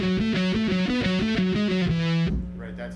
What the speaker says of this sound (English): Turning that memory boy on with the distortion, that's the move at the end.